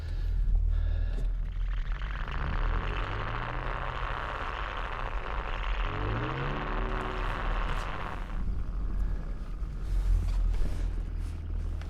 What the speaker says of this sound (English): just spinning wheels